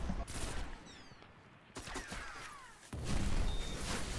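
Gunfire in the video game Destiny: scattered shots and a few sharp bursts crackle through a busy in-game mix, with louder clusters near the end.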